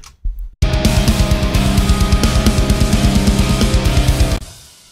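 Metal drum mix in Reaper built around an SSD5 snare: after a brief hit and pause, dense, fast, loud drumming with driving kick and snare runs for about four seconds, then cuts off.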